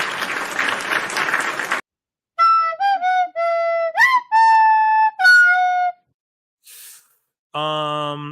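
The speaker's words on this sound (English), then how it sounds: "a round of applause" A short, loud burst of audience applause at a live wrestling talk show cuts off abruptly, followed by a string of clear, separated whistle-like tonal notes that rise and hold, with silent gaps between them.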